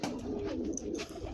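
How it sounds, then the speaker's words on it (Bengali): Belgian racing pigeons coo in their loft, a soft, continuous low murmur of overlapping calls close by with no talking. "আজকে আসলাম আমার এই কবুতরের লফটে"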